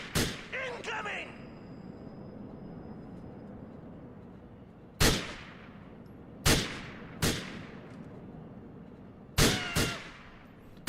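Gunshots in GTA IV: a handful of sharp, loud single shots with ringing tails, spaced irregularly a second or more apart against a quiet backdrop.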